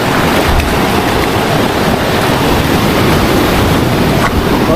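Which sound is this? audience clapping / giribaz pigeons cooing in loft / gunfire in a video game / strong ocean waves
strong ocean waves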